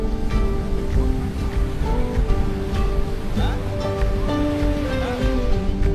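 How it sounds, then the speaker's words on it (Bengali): Sea wind and waves at a seaside club lawn near Fort Kochi, a continuous broad wash of surf and breeze filling the scene, fairly loud and steady with no clear breaks and no talking. "পিছন থেকে সমুদ্রের হাওয়া আসছে"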